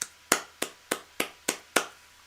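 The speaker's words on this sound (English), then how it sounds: "You deserve an applause" A single person clapping six slow, evenly spaced claps, each a crisp close hand strike with a quick decay, heard alone in a quiet room with no talk.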